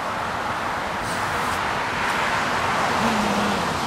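Steady road traffic roars past in a continuous wash of tyre and engine noise, loud and unbroken throughout, with no voices.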